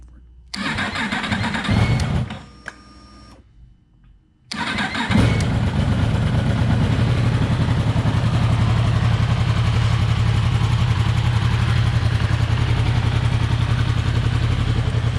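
A 2022 Yamaha YZF-R1 superbike engine cranks, catches after a short gap, and settles into a loud, steady idle for its first heat cycle.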